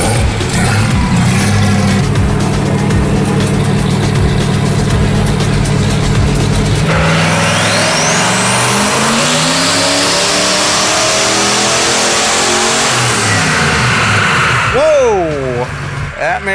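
A turbocharged 302 cubic inch engine roars on a dyno pull, loud and close, climbing steadily in pitch through the run before a sudden drop, then fading into whooshing wind-down sounds near the end.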